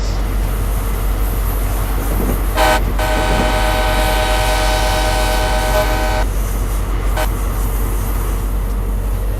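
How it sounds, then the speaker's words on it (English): Train rolling along rails in the Train Simulator game on the Riding the Surf route, with a steady rumbling drone throughout and a loud sustained horn blast in the middle, preceded and followed by short toots. "You're actually riding on the train."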